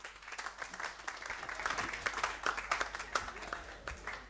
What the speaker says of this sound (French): l'humoriste Tonton Boss, qu'on applaudit très fort.